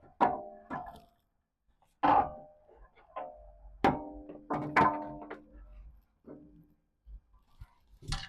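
The old stock muffler is twisted off the exhaust of a Polaris Pro R, giving scattered faint metallic thunks and clunks in an irregular rhythm with quiet pauses between them.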